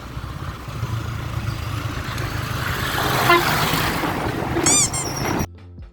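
A truck horn honks in reply to a motorcycle horn on a road trip near Khewra, a short toot rising late over continuous engine and road rumble before the sound cuts off.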